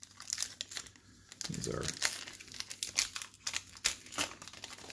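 A baseball card hobby pack, a 2020 Topps Archives box, is torn open with bursts of crisp wrapper crinkling and tearing, close and clear, while someone talks briefly over the rustle.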